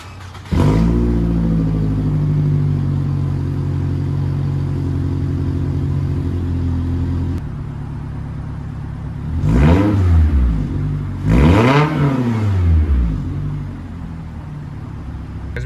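A Scion tC with its exhaust removed idles with a loud, deep, raw rumble close up, then revs sharply twice, each rev rising and falling back toward idle.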